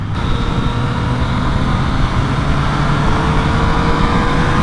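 A Yamaha FZ-09 (MT-09) motorcycle runs steadily in second gear, its engine drone blended with heavy wind rush and road roar, loud and unbroken throughout.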